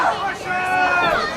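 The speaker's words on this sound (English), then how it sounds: "The crowd getting louder, very concerned" A wrestling crowd murmurs and swells during a bear-hug hold in the Jay Kross vs. Joey Mayberry match, a steady babble of many voices beneath a commentator's continuous close talking.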